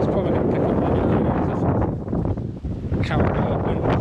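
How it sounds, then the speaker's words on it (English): Wind buffets the microphone with a constant low roaring rumble that dips briefly and then returns full strength. "oh, it's windy today"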